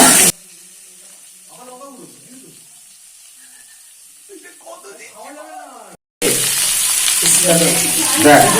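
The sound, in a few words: potatoes frying and being stirred in a pan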